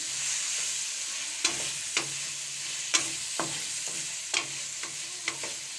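Potatoes frying on a medium-low flame for a dhaba-style potato karahi, an even hiss of oil under regular spaced scrapes and knocks of a spoon against the pan.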